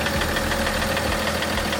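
A BMW engine knocks as it runs, giving a continuous loud, close mechanical clatter with a rapid ticking rhythm over a steady idle drone, with no talk.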